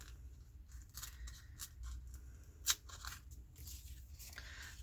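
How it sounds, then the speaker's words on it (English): Paper print being torn by hand along its edges, a quiet, close series of short crackling rips with one sharper tear in the middle. "I'm just going to rip the edges of this because I like the ripped edge"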